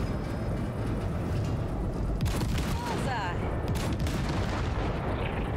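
Heavy gunfire blasting wrecks in Cyberpunk 2077, booming shots and rumbling impacts layered over a dense, continuous roar of combat, with several sharper bursts in the middle and voices talking throughout.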